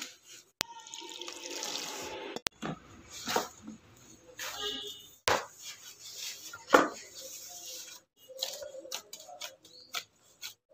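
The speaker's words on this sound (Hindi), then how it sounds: "हम इसमें थोड़ा थोड़ा पानी डालकर इसका सॉफ्ट आटा लगाएंगे" Small pours of water added bit by bit to flour being kneaded into soft dough for cauliflower paratha, heard as close, intermittent splashes and trickles mixed with light tapping and knocks of hands and bowl, with no talk.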